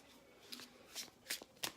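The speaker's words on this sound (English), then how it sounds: "so a little more deck shuffle here" A Gilded Tarot deck is shuffled close by, giving four quick, crisp riffling bursts in a brief, quiet stretch.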